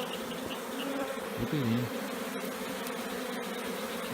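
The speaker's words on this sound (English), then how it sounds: "we have a box with a lot of bees in it" A swarm of honeybees crowded into a wooden box hums in a steady, dense, faint buzz, with a brief spoken word partway through.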